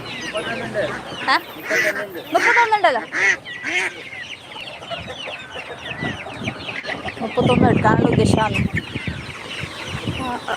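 Chickens and ducks cluck and quack at a busy market, loud and close, with repeated bird calls mixed with people talking nearby.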